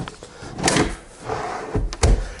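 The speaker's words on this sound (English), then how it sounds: "it's just a matter of popping the drawer into the slides once you got all of the spacers removed" A wooden cabinet drawer slides and clunks into its drawer slides in a woodworking shop, a rolling scrape followed by a couple of firm knocks as it seats, close and fairly loud.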